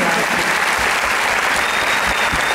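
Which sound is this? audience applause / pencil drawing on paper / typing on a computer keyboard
audience applause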